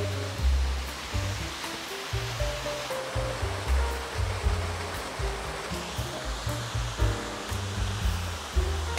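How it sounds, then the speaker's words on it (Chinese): A small multi-tiered waterfall in a shaded hillside stream rushes steadily, a continuous close wash of falling water with an even, unbroken roar. "虽然咧佢啲瀑布都比较细啦，不过咧就有好多层啦"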